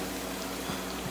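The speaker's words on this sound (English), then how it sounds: "I'm frying plantain, green plantain." A soft, steady sizzle of green plantain frying in a pan, faint and continuous throughout.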